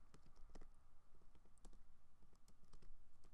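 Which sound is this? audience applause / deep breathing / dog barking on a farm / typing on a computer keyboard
typing on a computer keyboard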